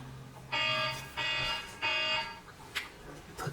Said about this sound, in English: Put the alarm on so that I wouldn't take too long of a reading here.